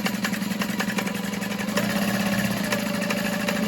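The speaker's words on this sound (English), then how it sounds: "Sewing in a U shape." A sewing machine runs steadily, top stitching a U-shaped seam along the bottom and sides of a bag pocket, with a continuous close motor whir and a rapid needle rhythm and no voices.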